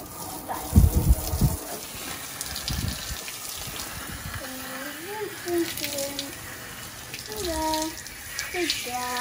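Tap water runs steadily while a pony is washed down, a continuous splashing hiss throughout with a few louder gushes early on and tonal squeaks layered over the flow later.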